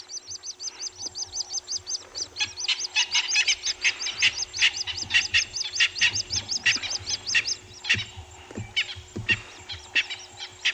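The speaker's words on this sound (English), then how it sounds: "Beautiful evening sounds here. The francolins, puffing hippos, doves, of course." Francolins and doves call in a dense evening chorus at a safari waterhole, with rapid repeated chirps and cackles close by and low cooing underneath, continuing throughout.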